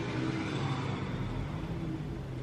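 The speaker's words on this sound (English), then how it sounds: "Why is there so much traffic?" Steady road traffic rumbles outside, a continuous low engine drone and whir with no single vehicle standing out, moderately loud and constant throughout.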